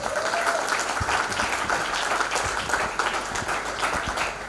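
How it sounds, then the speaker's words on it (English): At a women's award night, the audience gives a loud round of applause for a guest taking the stage, dense continuous clapping filling the hall. "can you please put your loud round of applause for Miss Aruna Chandrala"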